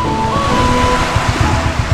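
Steady broadband rush of rough surf on the coast of San Fernando, Camarines Sur, with waves washing continuously, fairly loud and close, with no voices.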